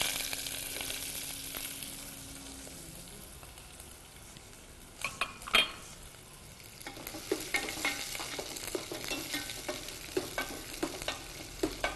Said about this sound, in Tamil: நல்லா வெங்காயம் வறுக்கணும்னா அதில் கொஞ்சம் உப்பு சேர்த்து வதக்கியிருக்கேன்